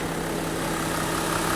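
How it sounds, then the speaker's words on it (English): A 2013 Porsche Cayenne Diesel engine idles steadily up close, a low, even rumble with a faint rattly direct-injection ticking and no pauses. "Very quiet diesel engine. Basically all you hear is the direct injection"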